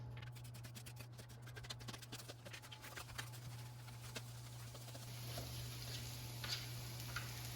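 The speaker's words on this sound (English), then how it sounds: "now I hear that the oil is sizzling" Quiet, irregular crackles and pops of oil sizzling in a pan over a low steady hum, growing slightly hissier toward the end; no talking.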